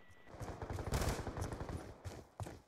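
Rapid bursts of automatic gunfire in an online shooter video game, a fast rattling string of shots that swells, eases off, then returns with a few sharper single cracks near the end, with no talking.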